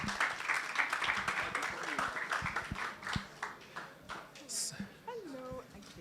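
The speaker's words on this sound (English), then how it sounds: "Please, round of applause for them." An audience at a youth forum claps for a group called up to the stage, a ragged patter of applause that thins out over several seconds while a voice speaks over it.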